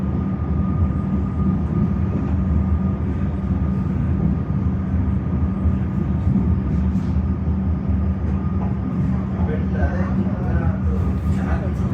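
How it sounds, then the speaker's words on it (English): Two trains run together in Melbourne, a continuous loud low rumble and rolling clatter of rail cars lasting the whole stretch, dense and close, with faint background sounds on top. "Wow, look at that. Two trains together."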